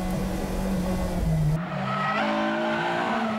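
A Mazda RX-8 and a Honda S2000 launch from a touge race start, engines roaring loud and close with a screech of tyres, then dropping to a lower revving drone as the cars pull away.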